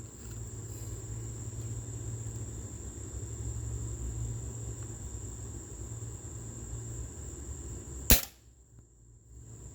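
One sharp shot from a Webley & Scott Xocet .25 calibre air rifle cracks suddenly after a long steady low hum, followed by quieter background.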